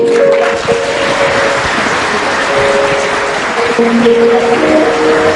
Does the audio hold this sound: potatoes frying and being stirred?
no